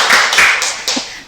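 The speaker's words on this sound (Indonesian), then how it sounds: "Boleh kita kasih tepuk tangannya buat Bunda?" Short burst of clapping for a guest in a podcast studio, a few people's hands striking in quick, close, fairly loud claps.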